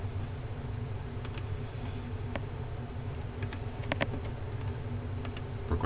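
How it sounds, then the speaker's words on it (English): Someone types on a computer keyboard into Notepad, producing soft, irregular clicks in short scattered bursts over a low steady background hum. "I'm going to type in Notepad again"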